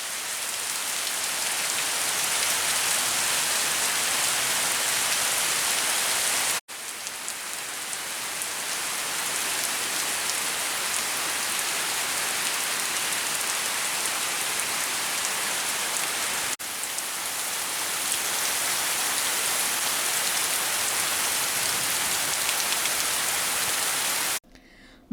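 Heavy monsoon rain pours down in the Honnavar countryside, a dense, loud and unbroken hiss of drops on surfaces, with two brief cuts and a sudden stop just before the end.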